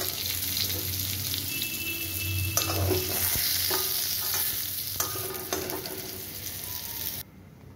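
Fried pointed gourd pieces being lifted out of a wok of hot oil: a continuous sizzle with spatula scrapes and knocks against the pan, close and clear, ending with a sudden drop in sound.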